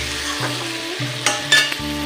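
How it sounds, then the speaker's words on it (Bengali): Ridge gourd in a simmering pabda fish curry is stirred slowly and gently, with a steady, soft sizzle and short scraping strokes against the pan, plus a couple of brief clinks near the end. "আস্তে নাড়া দিতে হবে যাতে ঝিঙ্গাগুলো গলে না যায়"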